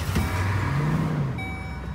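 A pickup truck engine idles close by as a steady low rumble that holds level for a couple of seconds, with no talking over it.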